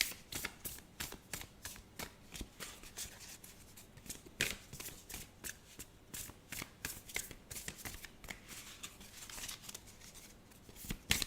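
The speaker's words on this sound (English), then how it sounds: "let's get a tarot card out" Tarot cards shuffled by hand, a steady run of crisp riffling flutters and snaps repeating close up for the whole stretch, with no talking.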